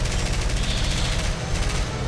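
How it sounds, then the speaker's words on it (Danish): A turret machine gun fires in the video game War Thunder as a loud, dense, continuous rattle of rapid shots with heavy low rumble throughout. "De turns skyder mig."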